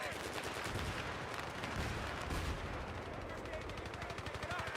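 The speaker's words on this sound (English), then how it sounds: "Oh, that's multiple grenades." Repeated grenade explosions in a video game, a dense, continuous barrage of booming blasts and gunfire-like crackle at steady loudness, with a voice talking over it.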